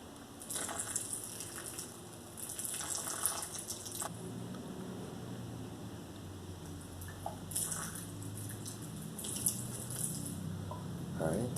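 Water pours from a watering can onto the dry soil of a potted kumquat tree, a soft trickling gush that starts and stops in several bursts, close and quiet, with faint incidental speech.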